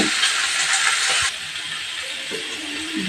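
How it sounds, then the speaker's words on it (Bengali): Boiled vegetables fried in a little oil with a pinch of salt, a loud bright hiss that drops abruptly partway through to a softer sizzle, close by and without speech. "সবজিগুলোকে আমি ভেজে নিচ্ছি একটু সামান্য নুন আর অল্প সামান্য নুন দিয়ে দিলাম"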